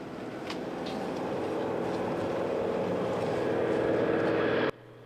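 Aircraft passing low over a memorial wreath ceremony, a loud, sustained roar that builds steadily before cutting off abruptly near the end.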